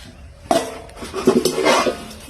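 Newly bought metal cooking pots and a rice-straining basin clank and clatter as they are handled, with sharp metallic knocks and scraping rings at close range, and no talking.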